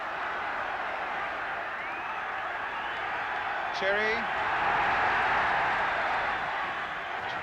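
A noisy football crowd roars steadily at Windsor Park during a 1977 Northern Ireland versus England match, a broad constant din with a sharp whistle, under a commentator's talk.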